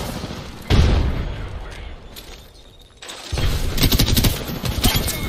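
Hip-fire gunshots from Apex Legends burst out loudly in two rapid volleys, a heavy one that fades, then a longer rattling string of close shots after a short lull.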